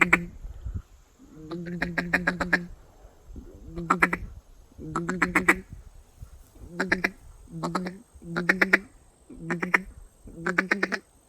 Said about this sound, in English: Basic feed call, okay? Duck sitting on the water